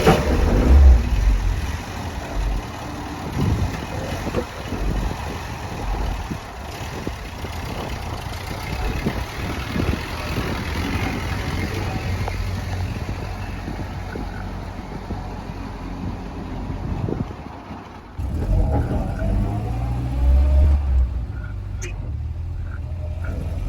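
A Thames vehicle engine drones steadily during a test drive, rising and falling with revs under cabin rumble, with a brief dip near the end before it picks up again.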